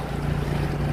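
A dinghy's outboard engine runs on open water, a steady low hum mixed with wind and water noise.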